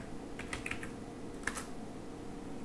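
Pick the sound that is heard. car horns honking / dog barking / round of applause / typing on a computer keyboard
typing on a computer keyboard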